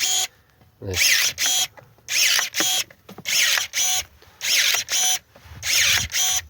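A Profi-Tec cordless battery pruner makes several separate cuts through dry branches, each a short loud burst of mechanical cutting noise with brief quiet pauses between them, close to the microphone.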